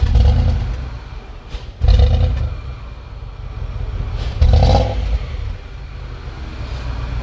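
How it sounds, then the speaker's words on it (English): A Land Rover Range Rover engine misfiring once warm, running as a steady low rumble with two louder uneven bursts that stand out above the idle. "okay, you can hear the misfire."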